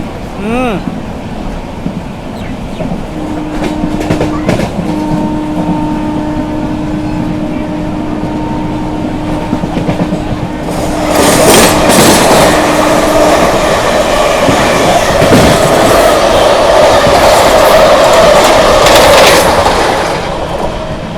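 A Simhadri Express train with LHB coaches rumbles along continuously, its roar swelling louder partway through with rattling and clatter, while someone talks over the running noise.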